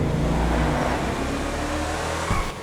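The Ubermacht Rebla GTS sport SUV in GTA Online drives with a steady, loud engine drone and road rumble. The note shifts slightly and ends with a brief thump near the close. No voices are heard.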